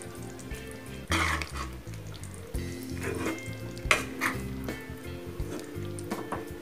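Close stirring and sizzling of an oily Tamil brinjal gravy, ennai kathirikai kuzhambu, in a pan with curry leaves and coriander, with wet scraping pulses and bursts of spatula clatter, no talk.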